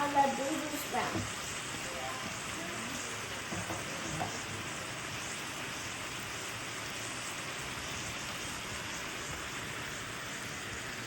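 Beef bulgogi with vegetables and bean sprouts cooking under a lid in a pan: a quiet, steady, rain-like sizzle that stays even throughout, with a few faint clinks near the start.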